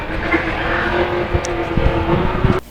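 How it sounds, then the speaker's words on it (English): American drag car racing at Maple Grove, a loud continuous engine roar with a steady pitched drone, ending in a sharp cut-off at the close. "Another case of American drag car, the hypercar, who can catch him on the top end"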